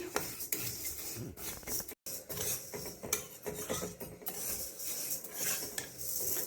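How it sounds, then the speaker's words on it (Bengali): Moong dal being dry-fried in a pan, with a steady scraping, rasping sound of spoon or spatula stirring the lentils against the metal, close and continuous with no talking. "ঠিক আছে, আমি ডালটা তাহলে ভেজে নেই"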